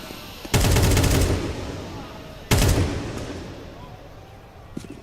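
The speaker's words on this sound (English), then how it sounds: "There's the first clean headshot onto Tesses." Counter-Strike gunfire during a Falcons vs Vitality Major quarterfinal match: two loud, rapid automatic bursts about two seconds apart, each a dense rattle of shots that decays into a lingering tail, with a faint click near the end.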